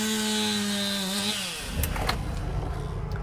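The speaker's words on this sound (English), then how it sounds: "the roar of the storm has been replaced by the buzz of chainsaws" A chainsaw cutting wood during cleanup after a storm in Clarksville drones steadily with a shifting engine pitch, then gives way to rougher cutting noise with sharp cracks. It is close and loud, and no one speaks.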